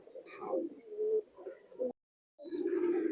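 Teddy pigeon cooing close by in a pigeon market, low throaty coos in two bursts separated by a short silent gap.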